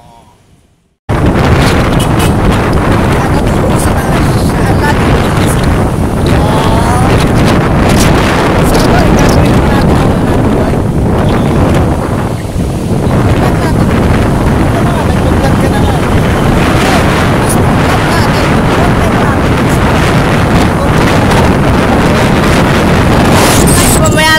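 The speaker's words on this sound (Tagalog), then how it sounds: "Malakas yung hangin." Strong wind roars loudly against the microphone almost the whole time, a steady buffeting rush with faint voices underneath.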